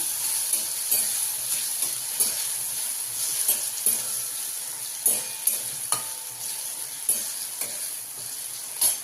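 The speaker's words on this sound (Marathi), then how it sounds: "आता त्याच्यामध्ये बटाटे ॲड करू चांगलं परतून घेऊया आपण" Potatoes sauté in a pan with steady sizzling and frying, repeated scraping and stirring clatters, close and fairly loud, no voices.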